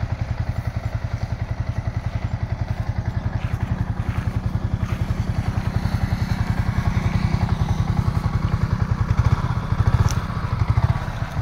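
Yamaha R15 version 4 motorcycle engine idling close by, a steady rapid low-pitched thumping that stays even and loud throughout and rises slightly near the end, with no talking.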